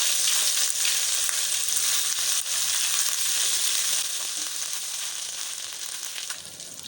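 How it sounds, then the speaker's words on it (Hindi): Garlic frying in a pan for chicken changezi, a steady bright sizzle that runs the whole time, close and loud, easing slightly toward the end, with no talk. "लहसुन को हम 1 मिनट के लिए पकाएंगे।"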